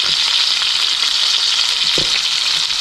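A one-pound hamburger patty frying in a pan gives a steady, dense sizzle that stays loud and continuous throughout, with a faint low knock of the pan near the end and no voices.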